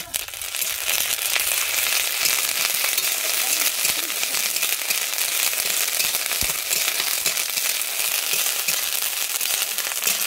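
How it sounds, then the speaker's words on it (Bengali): Ground ginger paste fries with onion in a pan while being stirred, producing a close, steady, bright hiss of sizzling oil with faint scraping throughout. "আদাটা আমি এবারে দিয়ে ভালোভাবে নেড়ে নিচ্ছি"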